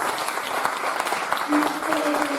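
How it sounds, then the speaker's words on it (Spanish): A church congregation claps in dense, continuous applause during a worship service, with a voice briefly rising above it. "Dale un aplauso a Él."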